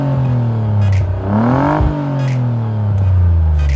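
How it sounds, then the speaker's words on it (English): A 2010 Vauxhall Insignia VXR engine starts with a deep exhaust note through twin tailpipes, revving up briefly and settling back to a steady rumble, loud and close. "there are two real tailpipes that make a really nice sound to start up"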